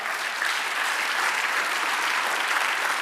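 Steady applause from a church congregation, a dense wash of clapping that holds at an even level from start to finish with no voices standing out.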